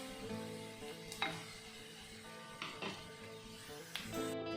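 Ingredients for an Arabian omelette fry quietly in a pan with a low, steady sizzle, broken by a few soft scrapes and clinks of a utensil.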